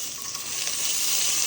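Cumin seeds, fennel seeds and curry leaves fry in hot oil in a pan, making a bright, continuous sizzle that rises slightly, with no talking.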